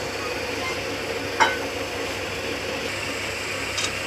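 Fresh grated coconut roasting in a pan, with a steady soft dry hiss and a few faint scraping stirs, one slightly louder scrape standing out, close by and without talk.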